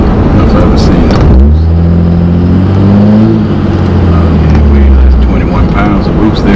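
A 2005 Cummins diesel pickup engine builds boost as it accelerates, a loud deep drone with rising tones, with people talking over it.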